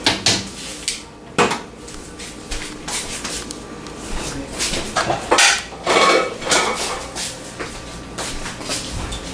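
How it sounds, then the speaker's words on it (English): Shrimp stir-fry being plated in a home kitchen: irregular clinks and scrapes of utensils against dishes and pans, close by, with a few sharper knocks and soft rubbing in between. "Now I'm going to plate it up."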